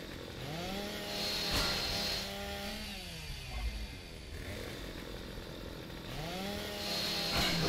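Chainsaw roaring in Gears of War 2, revving in loud rising and falling bursts that sweep upward, holding a steady engine drone between revs with no talking.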